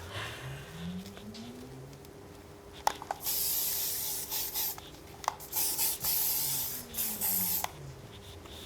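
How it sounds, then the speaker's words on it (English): Matrix Freezing Spray hairspray misted onto styled hair in several short, close hissing bursts, separated by quiet pauses and light rubbing sounds. "I like to just spray it with a little bit of hairspray first"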